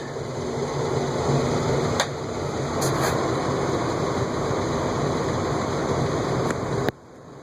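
A vintage four-foot preheat fluorescent light with a General Transformer Company ballast runs with a steady loud buzzing hum, a few faint clicks over it, before the sound cuts off sharply near the end.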